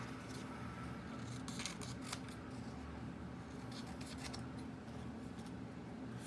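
Scissors snip through paper while cutting out an octagon shape, a soft, close, irregular series of crisp cuts over a steady low background hum.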